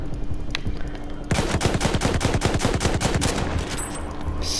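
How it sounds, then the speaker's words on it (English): Rapid bursts of gunfire from the video game Battlefield 1 crackle loud and close for about three seconds in a fast regular rhythm, after a quieter stretch of game ambience. "Celebratory shooting up the gun."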